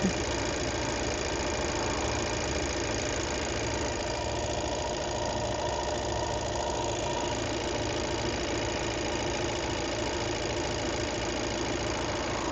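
A 2020 Volkswagen Crafter van idles with a steady, even diesel engine hum and a constant low rumble, heard close for over twelve seconds with no voices.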